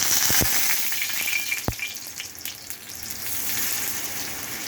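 Boneless anchovies frying in hot oil, a dense close sizzle with a few sharp taps and spatters near the start, settling into a steady hiss.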